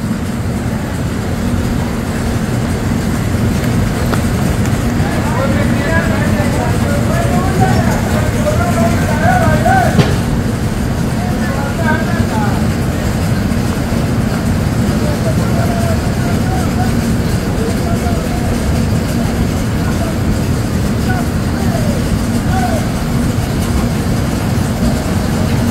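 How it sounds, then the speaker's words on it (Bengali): Inside a 3AC coach of the Patna Duronto Express leaving the platform at night, a steady low rumble of the moving train with faint rattling and distant voices throughout. "প্ল্যাটফর্ম নম্বর 2 থেকে কিন্তু ছাড়লো আমাদের ট্রেন"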